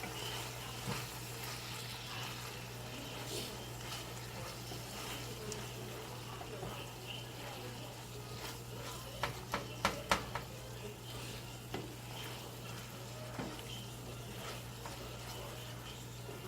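Green chile for stew cooks in a pot with a soft, quiet sizzle and simmer, broken by a few brief clinks of a utensil against the pot, under a steady low background hum.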